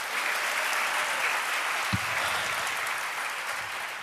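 Congregation at a church service clapping in a steady, dense wash of applause that holds evenly throughout, with a brief low thump near the middle.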